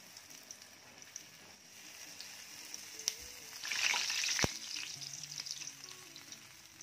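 Medu vada, a ladle-shaped lentil fritter, fries in hot oil with a quiet, continuous sizzle that swells to a brief crackling burst midway, then settles back to a soft bubbling hiss.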